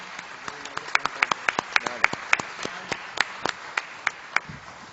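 At a university event, a small audience claps in a sparse, uneven patter of distinct hand claps that stays moderately loud for a few seconds and then thins out.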